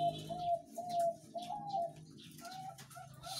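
Zebra doves (perkutut) at a breeding farm coo steadily, their soft rolling calls repeating close by over a murmur of other birds and faint background noise.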